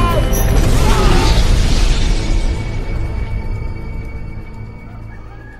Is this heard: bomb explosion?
yes